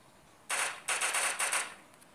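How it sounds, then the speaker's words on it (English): Bursts of gunfire in the online shooter Giant.io, three or four quick rattling volleys in close succession, crisp and near, standing alone over a quiet background. "somebody's shooting me"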